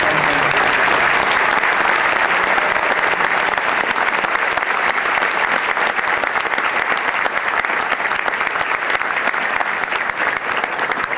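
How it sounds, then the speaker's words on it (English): A concert audience at a junior high honor band performance in Missouri gives a loud, sustained round of applause, a continuous wash of clapping lasting over ten seconds with little talk. "Let's give all our students one more round of applause."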